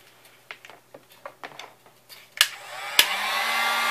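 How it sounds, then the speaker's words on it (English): A cheap Harbor Freight heat gun shrinks heat-shrink tubing over wiring on a 1964 Vespa project. A few light handling clicks come first, then the gun switches on with a sharp click and settles into a loud, steady blowing whoosh. "then we're going to grab the heat gun and we're going to shrink it down"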